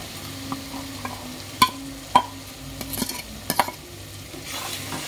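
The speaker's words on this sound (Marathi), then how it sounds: "आता यामध्ये आपण हे मसाले आणि दही जे मिक्स केलंय ते घालूया" Spice and yogurt mixture is stirred into onions frying in a pan, soft sizzling underneath while a spoon scrapes and knocks against the pan in irregular close strokes.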